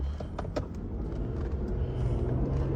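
An Infiniti Q50 fitted with racing air intakes drones steadily from inside the cabin, a low, even engine rumble with a faint whine held throughout and no talking.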